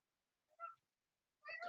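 A house cat meows twice in a quiet room, a short mid-pitched meow followed after a pause by a louder, longer one, with no talking.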